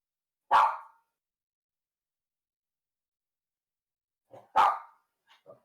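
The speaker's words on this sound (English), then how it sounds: "my dog's making me go deaf" Dog barking indoors, two loud single barks several seconds apart with a few softer yips and sounds in between.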